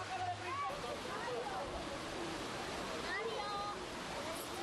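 Fountain water pours and splashes steadily in a busy public square in Valencia, a continuous broad wash of falling water with a voice talking over it.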